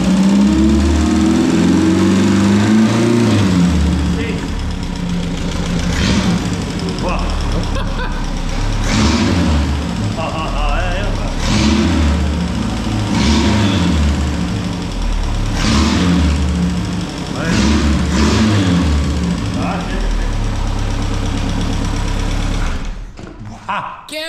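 A small homemade engine built from a Volkswagen Gol CHT engine idles steadily for most of the recording with rough, buzzy pulsing, then cuts off near the end; voices are heard over it.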